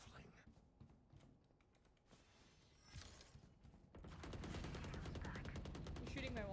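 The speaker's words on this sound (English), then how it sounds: "You're shooting my wall." Gunfire in a competitive shooter game strikes a wall, a run of rapid cracking shots growing into sustained, dense automatic fire toward the end, with keyboard clatter and a voice talking.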